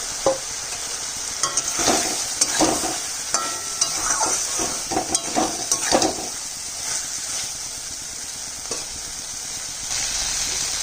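Potatoes and soybean chunks sauté in a pan over a constant frying sizzle, with repeated scraping and clinking stirring strokes clustered in the first half before the sizzle continues alone.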